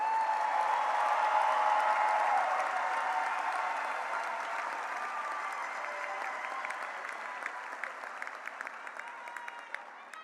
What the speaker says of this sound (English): You may now applaud all these outstanding seniors.